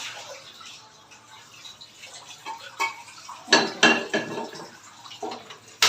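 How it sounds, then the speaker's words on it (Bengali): A pressure cooker is rinsed and washed with water in a home kitchen, with soft splashing and metallic clatter that builds into several louder clanks and knocks near the end, heard alone. "তো কুকারটাকে একটু ধুয়ে নিয়ে তারপর হচ্ছে বসিয়ে দিচ্ছি।"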